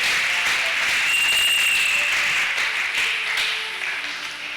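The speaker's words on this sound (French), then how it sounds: "Est-ce que nous pouvons applaudir Jésus pour cette journée encore merveilleuse?" A church congregation applauding, a dense, steady wash of clapping that fades a little toward the end, with no talk over it.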